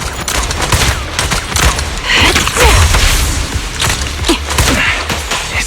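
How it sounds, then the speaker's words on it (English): Enemy gunfire in the video game Zenless Zone Zero rattles in rapid, dense volleys mixed with thuds and mechanical clanks, loud and continuous throughout. "Watch out for Grim Vulture taking shots from afar."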